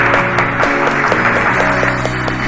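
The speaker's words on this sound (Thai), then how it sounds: "ขอเสียงปรบมือหน่อย" An audience claps at a Garena Talk Talk stage event in Chiang Mai, a loud, dense wash of applause running steadily throughout with music-like tonal layers underneath.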